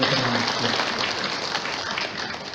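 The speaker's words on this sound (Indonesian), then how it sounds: "kami mohon aplaus untuk Bapak Ibu semua para veteran" An audience applauding veterans at a formal event, a dense, steady wash of clapping from many hands in a hall, with a speaker's voice partly over it at the start.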